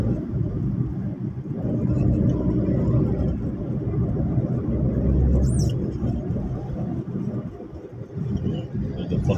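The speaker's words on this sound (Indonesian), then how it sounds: "Sudah ada bus-bus kecil itu sudah mulai lasak suaranya." Small buses and cars passing at Simpang Kayangan in Balai Jaya, Rokan Hilir, Riau, a steady loud low engine and road rumble that swells as vehicles go by, continuous throughout.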